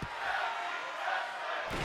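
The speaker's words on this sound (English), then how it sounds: "You hear this crowd." A WWE 2K24 wrestling arena crowd roars in a loud, dense, sustained wash of cheering that holds steady for about two seconds.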